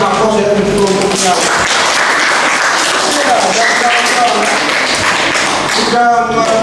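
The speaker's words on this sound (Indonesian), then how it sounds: "Kita berikan aplaus ya untuk kelompoknya" A classroom applauds a group of students who have just finished presenting on linear programming math models, with loud, sustained clapping from many hands and talking voices mixed in throughout.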